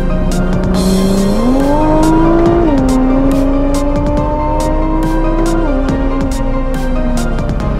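A 2017 Nissan GT-R Black Edition braking hard, its engine tone stepping down through gears under a loud tire squeal, close and sustained with rapid clicking pops over it.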